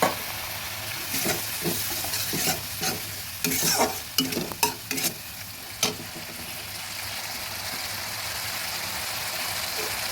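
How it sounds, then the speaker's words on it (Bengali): Kabuli chickpeas with turmeric and a little water stirred in a sizzling pan, a steady hissing fry with a cluster of sharp spoon scrapes and knocks in the middle, then settling back to a constant sizzle, no talking. "হলুদ গুঁড়ো দিলাম আর একটু জল দিয়ে নেড়ে দিচ্ছি"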